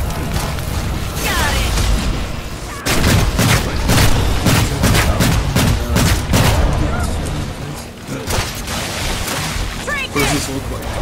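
Rapid, dense gunfire in the Evolve video game, with bursts of automatic shots and booming impacts filling the whole stretch, loud and close, while players shout and talk over the shooting.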